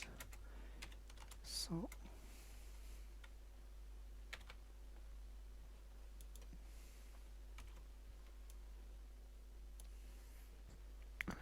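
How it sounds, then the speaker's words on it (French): Someone types on a computer keyboard while writing a formula in an office program. Quiet, scattered key clicks and taps come in uneven bursts over a low steady hum, and a voice briefly speaks. "je vais taper size"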